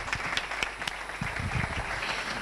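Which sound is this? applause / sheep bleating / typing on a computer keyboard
applause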